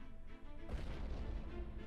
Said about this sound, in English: What's the explosion?